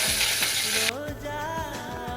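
Mustard seeds, dried chillies and onion fry in hot oil, a bright hiss that cuts off abruptly partway through, leaving a softer sizzle with light rhythmic clicks and stirring.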